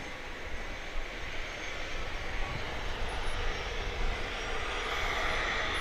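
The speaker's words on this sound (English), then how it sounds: "Off to Miami goes Cayman Airways Flight 104." A Cayman Airways jet airliner departing Grand Cayman for Miami produces a steady, moderately distant roar of engine noise that holds evenly throughout.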